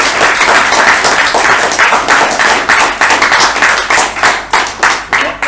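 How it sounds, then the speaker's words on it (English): Loud, close applause at a Toastmasters meeting in Bangalore, with many hands clapping in a dense stream that swells and dips rhythmically and has no talk over it. "Great round of applause for"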